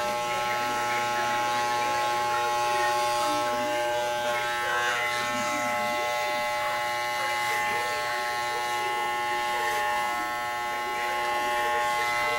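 An electric razor buzzes steadily and close while shaving a head of red hair, a continuous humming drone with slight shifts in pitch as it moves, with faint voices of a parent and young child in the background.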